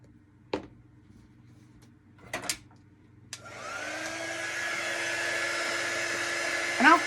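After a few faint clicks and knocks, a handheld heat tool switches on close by and runs with a steady loud whirring blow, drying white paint on an etched bug artwork.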